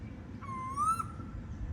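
An owl calls once from nearby in bushland at Pine Creek in Australia's Northern Territory: a single drawn-out, rising whistled hoot of about half a second over steady low background rumble.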